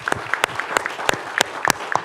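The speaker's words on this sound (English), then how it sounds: "We want to give them a round of applause." A handful of audience members clap in a brief round of applause, with distinct, sharp individual claps close by rather than a dense roar, lasting about two seconds.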